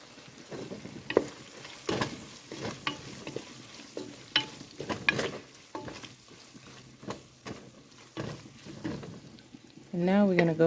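Garlic, onion and ginger fry in a pot with a steady soft sizzle and repeated scraping stirs, close up, while someone talks over the cooking.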